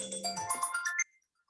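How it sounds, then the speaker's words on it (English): A phone ringtone sounds during a community group video call, a short bright melodic chime about one second long that stops abruptly, close and moderately loud. "your phone's ringing"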